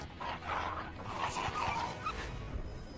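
A pit bull that has turned violent barks and whimpers in short yips at moderate distance, with faint voices in the background.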